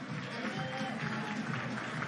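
A crowd at a boxing open workout applauds for Olympic bronze medalist Yamaguchi Falcao, a steady, dense patter of clapping that holds for the whole stretch, with voices mixed into the noise.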